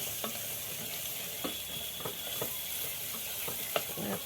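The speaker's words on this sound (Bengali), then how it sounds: "এটা আমি ভালো করে মশলাটাকে ভাজবো।" Spice paste with ginger paste, garlic paste and bay leaf sizzles in a pan for mutton masala curry, a steady frying hiss with intermittent scraping stirs, close and fairly quiet, no talk.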